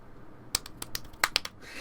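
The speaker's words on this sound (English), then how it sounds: "A crisp applause rang out, making Jessica's heart leap." Several sharp claps from the Umineko no Naku Koro ni visual novel ring out as a quick irregular burst of crisp smacks, close and dry, with no voices.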